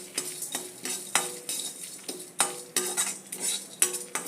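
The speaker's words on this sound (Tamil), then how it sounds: "அடுப்பை ஆஃப் பண்ணிட்டு தான் போடுறேன் தேங்காயை." Grated coconut tossed and stirred in a hot pan with the stove switched off, heard up close as a run of quick scraping and clinking spoon strokes against the pan, with no talking.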